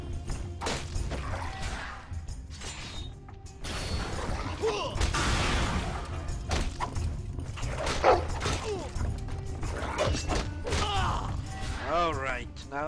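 A dog barks and yips in combat within a Game of Thrones video game, with short repeated barks over game sound effects and a player's voice talking throughout.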